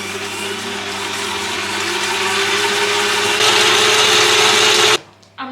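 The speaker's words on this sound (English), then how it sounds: "We've been whisking the butter and sugar for a hot minute" An electric mixer whisks butter and sugar for a cake batter, a steady loud motor whir that builds slightly in intensity over several seconds before cutting off abruptly.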